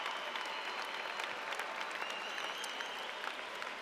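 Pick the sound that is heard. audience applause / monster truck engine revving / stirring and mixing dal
audience applause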